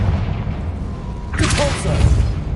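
A Confringo spell fired in Hogwarts Legacy on PS5 bursts into a short, bright explosive blast with a crackling tail partway through, rising over a low ambient rumble.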